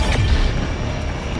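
A grenade explodes in the video game Doom Eternal, a loud low boom that rolls on as a dense rumble through the whole short moment, with no voices over it.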